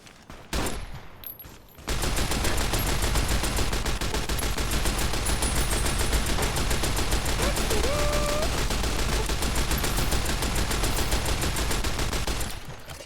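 Sustained rapid automatic gunfire in the video game Fallout: New Vegas, loud and continuous for about ten seconds after a short lead-in of a few scattered shots.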